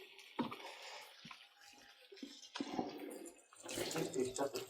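Hot water runs from a tap during a gas engineer's call-out on a house with a Nest control, a steady close rush with clunks and handling noise, strongest at the end, while someone talks over it.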